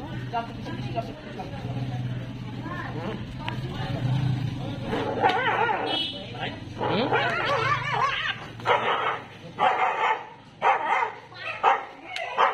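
Barks from a dog with a tin container stuck in its mouth ring out repeatedly over a busy, noisy scene, with people talking throughout and the barking growing sharper and more frequent toward the end.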